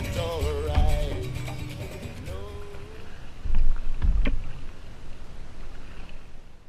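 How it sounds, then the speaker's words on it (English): Canoe paddle strokes dip and pull through river water at close range, a few splashy pulls with gentle wind and water wash on a solitary paddle in Texas. "Just nothing but the rhythm of the paddle in the water, the rock of the boat"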